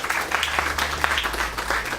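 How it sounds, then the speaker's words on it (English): An audience at the National Ploughing Championships Lady Farmer of the Year final applauds a finalist, steady close clapping that continues throughout. "Give her a big round of applause."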